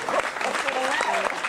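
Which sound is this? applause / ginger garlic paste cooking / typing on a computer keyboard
applause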